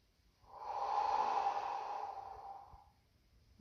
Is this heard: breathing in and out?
yes